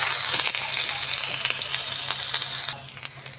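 Grated ginger sizzles loudly in hot oil with fried five-spice seeds in a pan, a bright, close, continuous crackle that eases slightly near the end, with a few stirring clicks and no talking.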